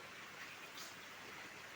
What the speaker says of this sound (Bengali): প্রচণ্ড বৃষ্টি চলতেছে আমাদের এখানে।